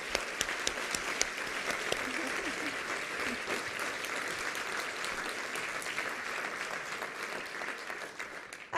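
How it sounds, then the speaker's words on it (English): Audience giving a round of applause to competition finalists at an evening awards event, steady and full-bodied clapping with a few crisp nearby claps at the start, sustained throughout and tapering slightly at the end. "all of our finalists deserve a huge round of applause"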